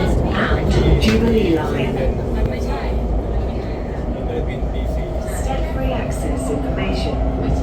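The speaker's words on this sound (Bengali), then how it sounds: "এই তো চলে এসেছি আমাদের ট্রেন এখন আমরা এখানে এই ট্রেনে উঠব" A London Underground train arriving at the platform for boarding: a heavy, steady mechanical rumble and rolling noise under people talking nearby.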